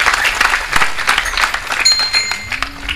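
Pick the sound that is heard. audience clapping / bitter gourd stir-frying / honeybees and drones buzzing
audience clapping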